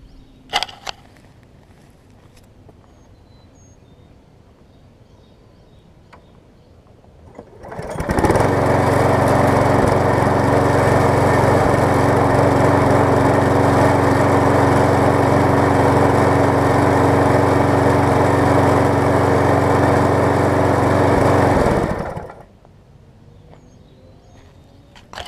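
A Yard Man walk-behind lawn mower starts up after a quiet lull and runs at a loud, steady drone for about fourteen seconds before cutting off, close by and alone.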